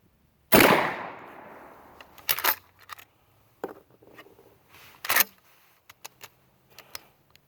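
A shotgun fires Remington and Pellagri buckshot shells outdoors: one loud, close blast with a long ringing decay, then softer clanks and clicks of handling, with another sharp report near the five-second mark.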